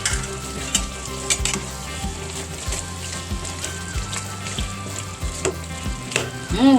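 Menudo with liver being stirred in a pan, a steady close sizzle of frying broken by regular scraping strokes of the spoon about once a second, with faint background music.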